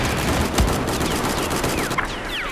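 Rapid gunfire in Battlefield 4, loud and continuous across the whole moment, with sharp shots layered over dense in-game battle noise.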